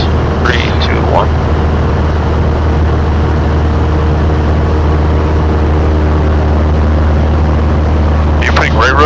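A light aircraft engine runs with a loud, steady low drone and propeller noise throughout, with voices speaking briefly near the start and end.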